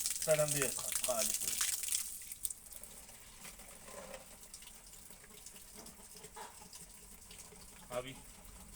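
Tap water runs and splashes while bottles are filled, loudest at the start and then settling into a softer steady flow with faint voices in the background.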